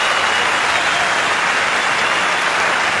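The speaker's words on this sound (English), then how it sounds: "Great burst of applause" A large cricket crowd applauds throughout a 1982 Benson & Hedges Cup semi-final between Pakistan and the West Indies, a loud, dense and continuous clatter of clapping with no break.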